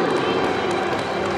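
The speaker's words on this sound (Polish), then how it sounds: "Chciałem prosić o gorące brawa, ale już w sumie one nastąpiły." A crowd applauds and cheers at the closing ceremony of a youth football tournament for 2009-born players, a steady, dense burst of clapping throughout.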